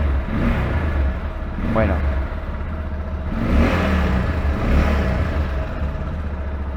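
A V200 Adventure motorcycle with a new iridium spark plug fires up from neutral and revs, a steady mid-pitched engine drone with one rising rev burst, heard close under someone talking.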